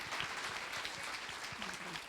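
A church congregation applauds at a Brazilian evangelical service, a dense, steady wash of clapping that holds for about two seconds. Faint voices run beneath it.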